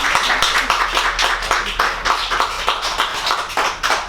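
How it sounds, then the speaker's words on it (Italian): An audience at a book presentation claps in irregular, dense applause, many hands close and fairly loud, fading slightly toward the end with no voices. "un applauso a Tobias."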